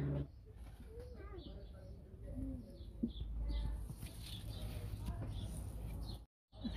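Soft pigeon-like cooing and bird calls come from a tree near a nest in a home garden, fairly faint and scattered, while people talk quietly in the foreground.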